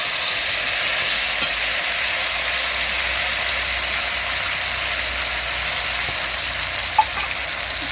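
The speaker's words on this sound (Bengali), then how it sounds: "এখন আমি লঙ্কা বাটাটা দিয়ে দেবো তেলের মধ্যে" Ground chilli paste fries in hot oil in a village kitchen, making a loud, steady hissing sizzle that holds evenly throughout with only a faint knock near the end.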